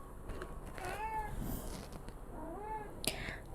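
Two drawn-out meows come from a mother cat summoning her newborn kitten from beneath a bed, spaced about a second and a half apart, close by, with a faint click between and no voices.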